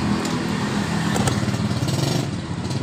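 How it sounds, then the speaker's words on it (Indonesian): A Yamaha Mio scooter engine runs steadily at idle, a close, continuous low buzzing putter with no revving. The scooter has a fault that makes it sputter and stall while riding. "Kita hidupkan motor mesin dalam keadaan hidup"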